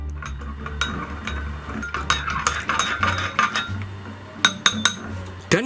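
A stainless steel spoon stirs tea in a glass, producing a close series of bright clinks and scrapes at an uneven rhythm over a faint background hum.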